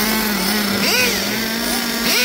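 Close and loud, a nitro 1/8 scale offroad RC buggy engine holds a high, steady buzzing whine, with brief rising and falling revving sweeps near the middle and at the end.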